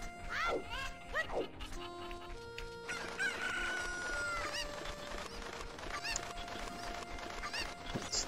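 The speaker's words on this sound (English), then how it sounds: "Isn't there a chicken down here?" Chickens in Ocarina of Time's Kakariko Village cluck and squawk in short bursts, nearby and fairly loud, over layered game music and effects.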